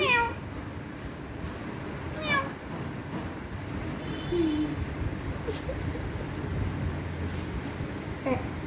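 A white cat with white whiskers gives three short, rising meows spaced apart, with a faint murmur of household voices in the background.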